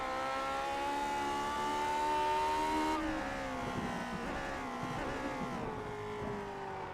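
A race car engine in a racing video game revs high and steady, then flat-shifts with a sharp cut and drop in pitch, climbs again and shifts once more, loud and alone with no talk.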